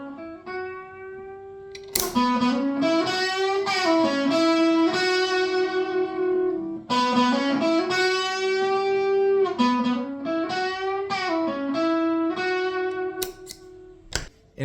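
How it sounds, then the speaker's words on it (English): A guitar runs through a homemade DIY overdrive distortion pedal, playing sustained chords and bends with a thick, saturated, loud tone throughout, no voices. "This is kind of an overdrive, kind of a distortion. It just makes loud, basically."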